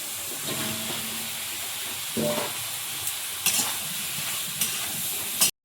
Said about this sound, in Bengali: আলুটা দিয়ে ভাজা হয়ে গেছে